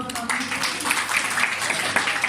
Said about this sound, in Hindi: बहन के लिए जोरदार तालियां